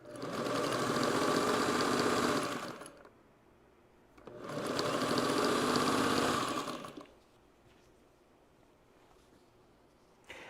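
A sewing machine chain-pieces quilt strips in two long, fast bursts of stitching, each a few seconds, separated by quiet pauses, close and loud.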